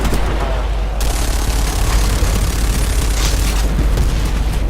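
Tank being shot and exploding in the WarFace shooter game: a loud, sustained booming blast with rumbling low end that swells after the first second and roars on throughout, with faint voices underneath.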